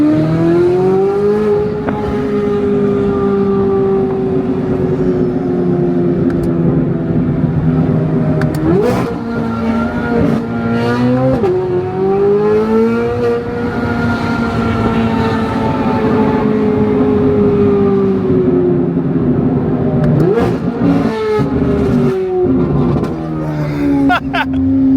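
Straight-piped Chevrolet Corvette C8 Z06 on the street, its engine droning loud and near with repeated revs rising and falling over about twenty-five seconds, plus sharp blips between pulls.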